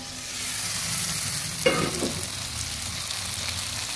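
Potatoes frying in a pan give a steady, close hiss of sizzling oil, with one brief stirring scrape partway through and no voices.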